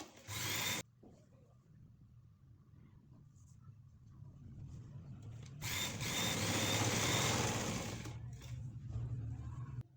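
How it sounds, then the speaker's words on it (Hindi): A sewing machine stitches lace onto a dupatta in short, loud whirring bursts. Quieter gaps of low mechanical hum sit between the runs. "इसको एंड तक इसी तरह स्टिच कर लेना है"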